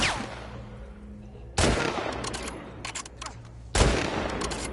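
Gunfire in The Last of Us Part 2, with two loud, sharp shots about two seconds apart, each followed by a long echoing decay and some smaller clatter between them.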